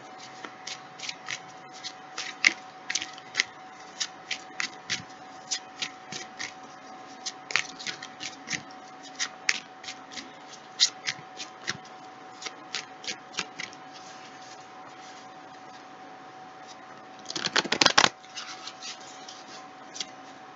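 Tarot cards being shuffled make a quiet, close series of crisp flicks and taps at an uneven pace, building to a dense riffle near the end, with no talking.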